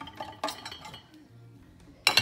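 Dishes and silverware clink and clatter as they are unloaded from a dishwasher drawer, a few sharp metallic chinks close by with a louder rattle of plates at the end.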